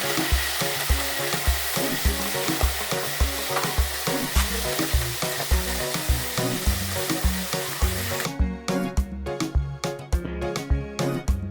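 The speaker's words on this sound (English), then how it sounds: "So the oil is hot now. I'm coming to put my fish. Yes, so my fish is frying now." Fish frying in hot oil for karin karin stew, a loud, steady crackling sizzle with a rhythmic pulsing pattern that runs throughout, close up and with no talk.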